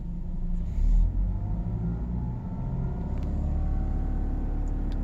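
A Cadillac ATS engine with a P0171 lean fault runs steadily at idle, a low continuous rumble close by, with a slight swell in the first second and no voices.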